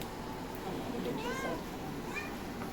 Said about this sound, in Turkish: Yeni gelen kedimiz.